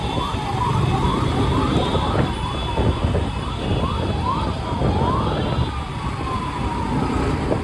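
An ambulance siren wails, repeatedly rising and falling amid dense Bangalore traffic noise, with engines and horns droning steadily throughout.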